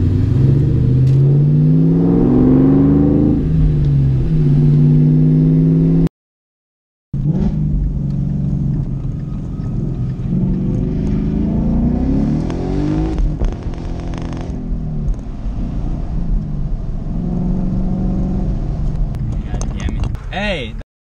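A car revs hard and fishtails with spinning tires, its loud engine rising and falling in long surges with a brief dropout, while people talk over the noise.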